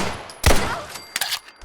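A LebDev pistol in a Fallout 4 weapon mod fires a single sharp, loud shot, then a few quieter clicks and a second, softer report close by.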